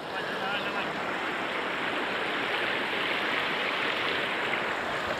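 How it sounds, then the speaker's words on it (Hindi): Rushing flash-flood water pours through a village in a loud, steady, broadband roar that stays close and unbroken throughout, with no other sounds standing out. "काफ़ी ज़ोर का जो है प्रेशर का पानी"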